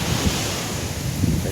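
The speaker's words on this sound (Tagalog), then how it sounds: "tambay-tambay muna po tayo dito sa tabing dagat" Sea waves wash onto the seashore while wind buffets the microphone, a steady broadband roar with low surges and no clear voices.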